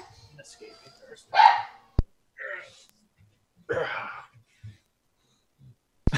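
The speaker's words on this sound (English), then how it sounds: "Can you hear him barking?" A dog gives a few short, separate barks with quiet gaps between them, heard alongside people talking nearby.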